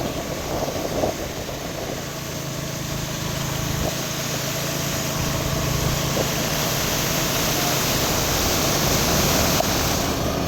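Knee-deep rainwater flows steadily over a flooded road during a storm in Mullaitivu, a broad, even rushing roar, unbroken throughout and without voices.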